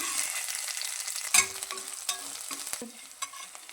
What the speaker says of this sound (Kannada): ನೆಕ್ಸ್ಟು ಗೆಜ್ಜಿಟ್ಕೊಂಡಿರೋ ಅಂಥ ಬೆಳ್ಳುಳ್ಳಿನ ಹಾಕ್ತಾಯಿದ್ದೀನಿ.